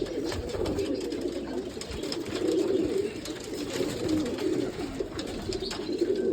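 A flock of pigeons at a loft in Izmir coo together in a dense, unbroken low rumbling murmur that stays close and fairly loud throughout, with no voices over it.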